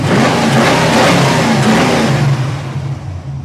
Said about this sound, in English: Car's running really good now.